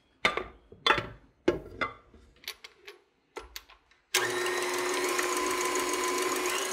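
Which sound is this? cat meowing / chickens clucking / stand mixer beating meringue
stand mixer beating meringue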